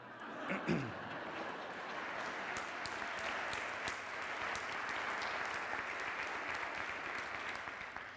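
An audience breaks into sustained, full applause with a little laughter at the start, the clapping dense and steady throughout.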